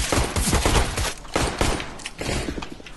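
Gunfire bursts rattle in Counter-Strike: Global Offensive, with rapid, loud, repeated automatic shots arriving in several close clusters.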